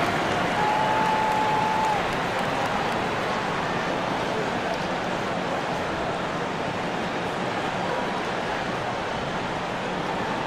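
Broad, steady crowd applause and cheering fill an NBA 2K23 arena during a preseason game between the Philadelphia 76ers and Brooklyn Nets, holding at an even, moderately distant roar throughout.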